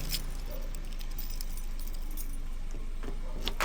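A shop's bunch of keys jingles faintly in a street setting, light metallic jangles clustering toward the end over a steady low hum.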